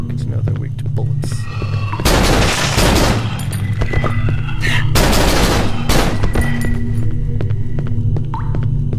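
Gunfire in the Cry of Fear horror game inside an apartment setting: two dense bursts of rapid shots, loud and close, over a steady low droning hum, with a brief electronic tone between them.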